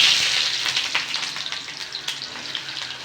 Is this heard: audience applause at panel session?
no